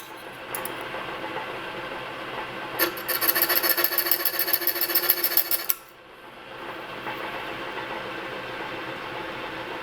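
Milwaukee die filer, a reciprocating file machine, runs with a rapid rasping stroke for about three seconds over steady shop hum, then stops abruptly.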